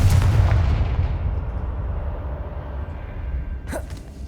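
A Confringo fire spell blast in Hogwarts Legacy, a heavy low boom that fades into a long rumbling tail, followed near the end by a short sharp whoosh.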